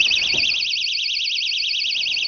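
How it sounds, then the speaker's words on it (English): A loud, shrill electronic alarm from a magnetic garage door sensor warbles continuously as the door is lifted open, a rapid pulsing siren tone going on without pause. "when this piece detaches from this piece, an alarm sound will go off"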